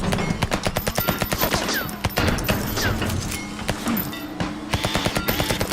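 Rapid bursts of gunfire from the zombie-survival video game Until We Die, loud and close, with dense volleys of automatic shots and sharp impacts that continue almost without a break.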